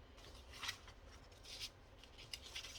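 Scissors cut through paper tags in several soft, close snips, each a brief crisp rasp over low background noise.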